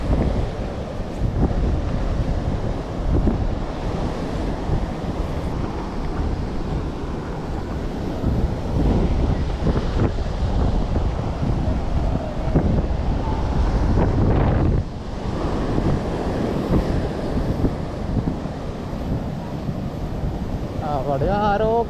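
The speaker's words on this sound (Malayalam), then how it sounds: "കണ്ടില്ലേ തിര കയറുന്നുണ്ട് ഇപ്പൊ നല്ലോണം." Heavy sea waves surge ashore during torrential rain and strong wind, a loud, continuous roar of surf and rushing water mixed with wind buffeting the microphone, with occasional muffled voices in the background.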